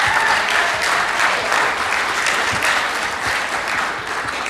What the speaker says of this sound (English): put your hands together for Mum and Dad.